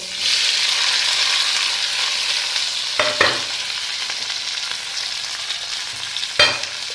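Egg bhujia with onion, tomato and green chili fries in a pan with a bright, steady sizzle, broken twice by sharp spatula scrapes against the metal, close up and with no voices.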